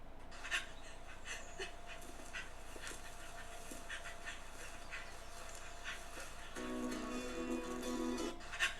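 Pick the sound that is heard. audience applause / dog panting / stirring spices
dog panting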